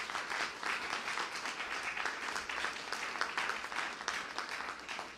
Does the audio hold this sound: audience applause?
yes